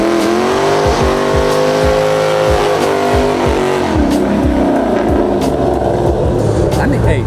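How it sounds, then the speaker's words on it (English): A lifted pickup truck roars through a burnout at a truck meet, its engine revving hard and steady with tire squeal mixed in, close and loud throughout while people talk over it. "when you can just flip your finger at somebody and they do a burnout"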